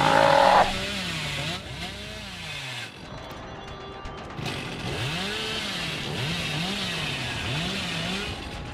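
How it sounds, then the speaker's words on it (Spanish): Hillbilly's chainsaw in the video game Dead by Daylight revs repeatedly, its engine pitch rising and falling in several loud sweeping surges over continuous game noise, with no talking. "Yo creo que conviene activar la motosierra cuando estás cerca"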